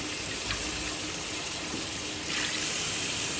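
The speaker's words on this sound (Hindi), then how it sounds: "अब इसमें पानी ऐड कर देंगे।" Water pours steadily into a cooking pot of paya, a continuous close splashing gush that holds even for a few seconds, with no talking.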